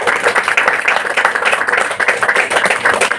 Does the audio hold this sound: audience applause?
yes